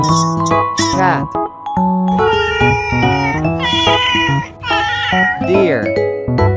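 A cat meows repeatedly, close and clear, in a quick series of drawn-out cries, with bright jingling and tonal sounds mixed in around them.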